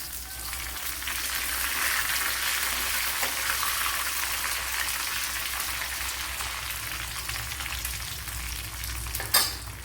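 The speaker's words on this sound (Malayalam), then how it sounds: "ഇവിടെ വറ്റൽമുളക് ഇട്ട് കൊടുത്തിട്ടുണ്ട്" Dried red chillies frying in oil for an Udupi-style pumpkin curry, a constant close crackling sizzle with light popping throughout, no voices.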